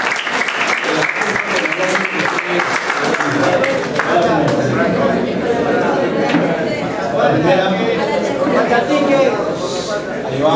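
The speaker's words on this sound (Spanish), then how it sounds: "Un aplauso para Galaxy" A large audience at a university engineering week event bursts into loud, dense applause that holds steady throughout, with chatter and voices under the clapping.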